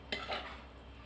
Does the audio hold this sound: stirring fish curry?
yes